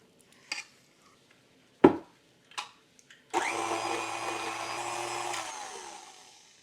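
A few sharp clinks and bumps of a bowl come first. Then an electric mixer beating cookie dough on high whirs loudly and close for about two seconds before winding down.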